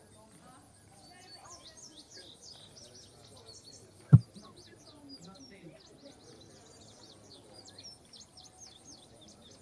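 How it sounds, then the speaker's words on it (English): Birds chirp and call outside near a town square, faint and steady in the background throughout, with one sharp loud knock near the middle and low murmuring of people beneath. "You still hear the birds chirping outside."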